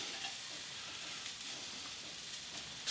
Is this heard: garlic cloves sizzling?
yes